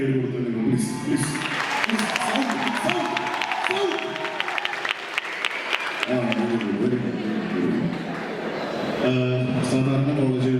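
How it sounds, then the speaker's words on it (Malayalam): College union audience clapping as a dense, sustained round of applause across a crowd, with a voice talking over parts of it. "നിങ്ങളെല്ലാവരും നിങ്ങൾക്ക് തന്നെ ഒരു കയ്യടി കൊടുത്താൽ പ്ലീസ് പ്ലീസ്"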